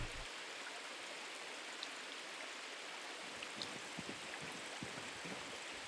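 Underwater bubbling and watery wash from a video game as a character sinks fully beneath the surface, a steady, fairly quiet hiss of water with soft gurgles and small splashes, no voices.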